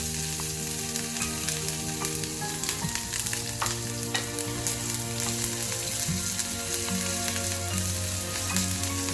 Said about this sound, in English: When mustard seeds start spluttering, add the other ingredients